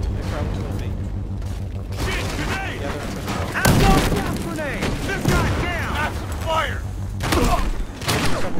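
A flashbang goes off during a bank vault heist in the video game Battlefield Hardline, adding a sharp blast to a dense run of gunfire, thuds and mechanical clatter while voices talk over the action.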